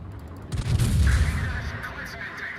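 Heavy warship guns boom in the naval battle game World of Warships, a deep low rumble swelling and rolling away, with faint engine hum behind it.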